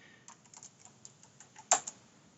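Quick, light keystrokes on a computer keyboard while a species name is entered into a nature-observation upload form, ending with a sharper, louder key press near the end.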